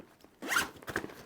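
A zipper on a Mystery Ranch x Carryology Unicorn 2.0 backpack is pulled open in two quick close rasping strokes. The first is longer, the second is short, and there is near-silence before them.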